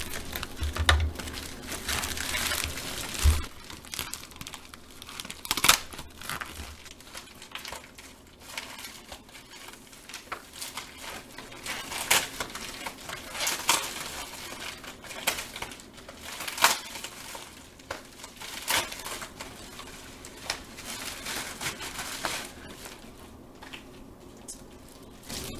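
Comic book packaging is cut open with close, irregular crinkling, tearing and crunching of plastic and paper, soft and scattered over a long stretch.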